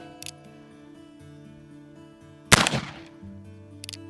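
One sharp, loud gunshot from an original Rogers & Spencer black powder revolver cracks out near the middle and trails off, with faint clicks before and after.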